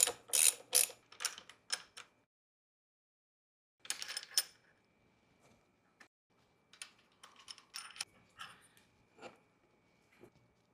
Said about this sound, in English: I'll just remove these bolts here on the bar mounts